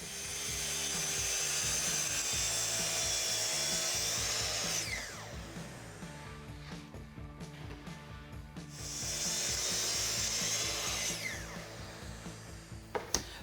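Two long passes of a power saw cutting plywood pieces to length in a mudroom cabinet build, each a loud sustained whine with a spin-down between, no talk.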